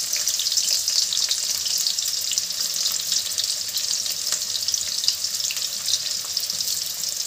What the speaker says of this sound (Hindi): हमारा तेल हो गया है गर्म। इसमें डालेंगे प्याज।